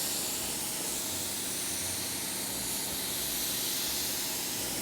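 Paint spray gun laying a cross coat on a C5 Corvette: a continuous, loud airy hiss with no break or pause, close to the listener.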